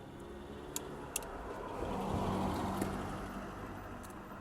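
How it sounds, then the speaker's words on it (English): A car passes on the road beside a Kawasaki Versys 650 parked for chain adjustment, its faint engine rising to a soft peak and fading away. A couple of sharp metallic ticks from nearby tools come early on. "Here comes the car."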